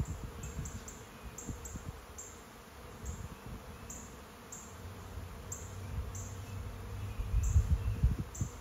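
Newly arrived swarm of honey bees hums in a low, steady drone, swelling somewhat louder toward the end, with no voices.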